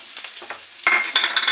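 Chopped onion, garlic and chili frying in a wok for samosa filling, quiet stirring scrapes that burst into a loud bright sizzle as the ingredients hit the hot oil, close and intensifying.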